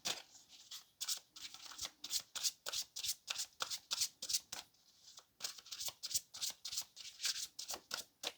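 A tarot deck is shuffled by hand in steady repeated bursts of riffling card noise, close and crisp, continuing without pause and with no talk over it.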